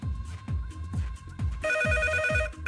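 A telephone bell rings in a steady repeating pattern on a Polish TV game show, loud and close, with a trilling electronic tone joining partway through. No talking.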